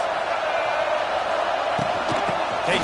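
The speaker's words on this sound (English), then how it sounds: "This crowd trying to make life miserable for this offense." A stadium crowd roars in a football video game, a steady dense wash of cheering that continues with no breaks and swells slightly near the end, while a commentator talks over it.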